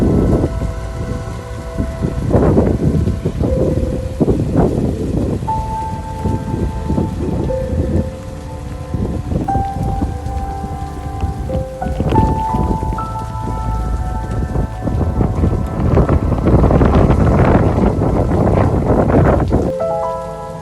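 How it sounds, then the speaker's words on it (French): Heavy rain falls in Ireland as a loud, continuous hiss of drops pounding a surface, with steady tonal, melodic sounds running over it throughout. "Il pleuvait beaucoup trop, même si ça se voit pas forcément dans la vidéo"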